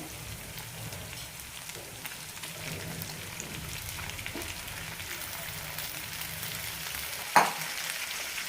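Chicken pieces frying in roasted garlic-ginger paste, a soft continuous sizzle and crackle with occasional stirring scrapes, fairly quiet, ending with one sharp clink of a utensil against the pan near the end.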